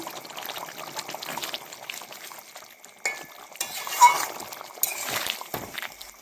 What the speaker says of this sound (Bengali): বাটিতে ঢেলে নিয়েছি।